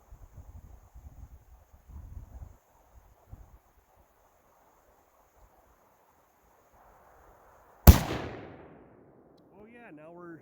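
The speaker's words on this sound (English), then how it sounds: "I'm gonna take one more shot and just see if maybe by any fluke we got a little more movement to the right." A single sharp crack from a Thompson Center Compass II .223 bolt-action rifle fired at a range, loud and close with a short decaying tail, preceded by quiet murmured talk.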